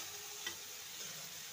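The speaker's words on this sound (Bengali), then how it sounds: "এবার মশলা দিয়ে মেখে রাখা সয়াবিনটাকে দিয়ে দেব।" Marinated soybean chunks go into a pan of cooked-down spice masala with oil separated, giving a faint, steady frying hiss with a couple of soft stirring clicks.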